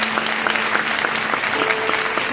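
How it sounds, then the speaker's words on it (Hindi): Sustained applause from a congregation honoring pastors at a church service in Toba Tek Singh, dense and steady clapping close by with a faint tonal hum running underneath. "खुदा के खादमों के लिए तालियां बजाते हैं"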